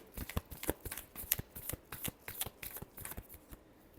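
Tarot cards are riffled in a rapid crisp run of flicks, close and moderately loud, with a steady rhythm of sharp snaps and no voice.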